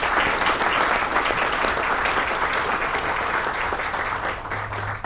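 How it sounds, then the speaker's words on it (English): A crowd at an outdoor college groundbreaking ceremony gives a sustained round of applause for elected officials, steady dense clapping throughout that fades slightly toward the end, with no voices over it. "Let's give them all a big round of applause."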